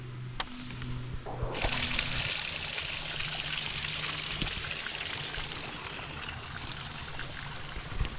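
Waterfall at a war memorial in a botanical garden, a steady rushing splash of falling water that holds through the whole stretch, with a faint low hum at the start.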